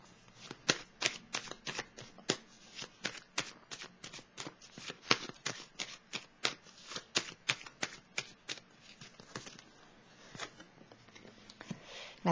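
Tarot cards being shuffled during a reading, a rapid series of crisp riffling snaps and flutters, close and fairly quiet, with no speech.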